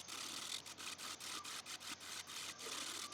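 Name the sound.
lathe turning and rounding segmented wooden birdfeeder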